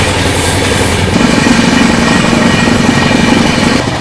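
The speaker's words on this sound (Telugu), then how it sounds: "flat 130 with flat wheel sound" The 12027 Shatabdi Express runs at 130 on the Chennai to Bengaluru line with a flat wheel, giving a dense, steady, loud roar of rolling stock that stays unbroken throughout.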